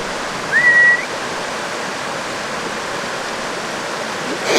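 Steady rushing water of Wilson Creek in North Carolina flowing along a trail, a constant broadband wash with a brief bird chirp early on, no voices.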